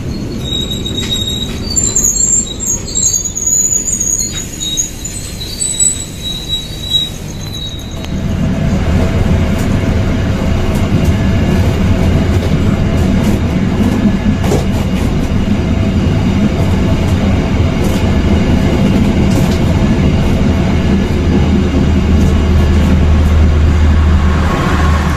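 A heavy cargo and parcel train rumbles past a small station in West Java, Indonesia, steady and loud, with metallic wheel squeal and rattling cars running continuously over the whole stretch.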